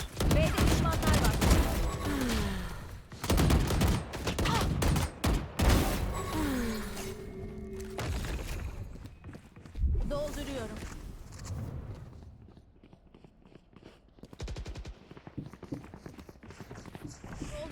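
Rapid bursts of gunfire in the Valorant shooter game. Loud volleys come in clusters over the first several seconds and then thin to sporadic shots, with players talking over the action.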